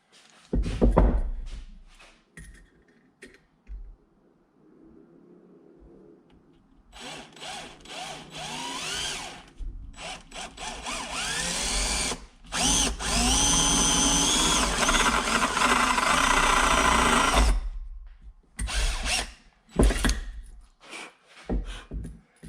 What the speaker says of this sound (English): I didn't know if I could even drill this stuff.